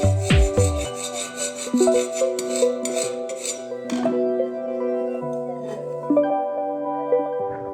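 A screwdriver scraping across a porcelain tile, giving short gritty scratches and rubs with bright ringing tones from the tile, close and loud at first, then fading into lingering hard-surface resonance.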